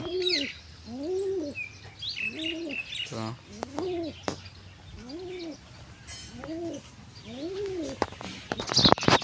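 A pigeon coos close by, repeating its soft rolling call about seven times at a steady rhythm, with faint chirps and light background noise.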